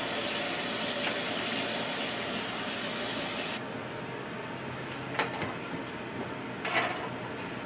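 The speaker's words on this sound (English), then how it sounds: "Now I'm going to go ahead and fill up the rinse tray as well." Running water pours steadily from a tap into a rinse tray, then the flow drops to a softer trickle with a few splashes.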